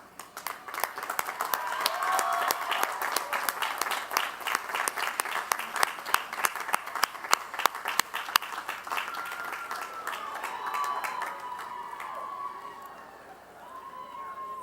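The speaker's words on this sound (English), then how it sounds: "giving those people a well-deserved round of applause" A commencement crowd applauds steadily with dense, sustained clapping that gradually thins out and fades near the end.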